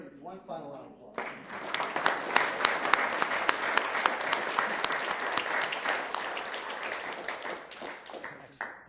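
A council chamber audience gives a sustained round of applause for a Full-Camp Management Excellence Award winner, steady dense clapping that starts after a brief lead-in and carries on for several seconds without pause.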